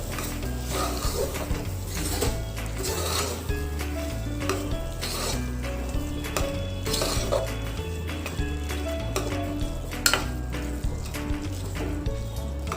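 A spoon stirs a chana dal puran mixture with cardamom and nutmeg powder in a pot, producing repeated clinks and scrapes against the vessel over a steady low background hum.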